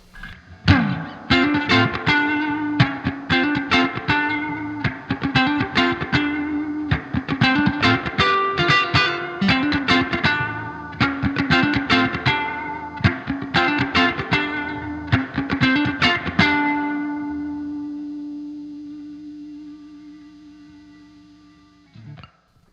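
Electric guitar played through a Fender '76 Super Reverb amp with reverb set to 6, a run of strummed and picked chords with springy reverb, ending on a long ringing chord that decays to silence.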